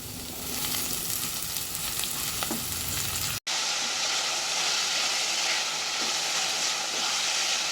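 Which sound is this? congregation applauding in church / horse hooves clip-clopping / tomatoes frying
tomatoes frying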